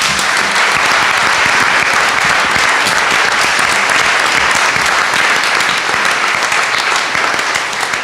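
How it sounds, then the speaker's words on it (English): An audience at a student forum on gun violence in Exeter, New Hampshire, applauds continuously and loudly for the whole stretch, dense even clapping from many hands with a single spoken word at the start. "So a big round of applause for them."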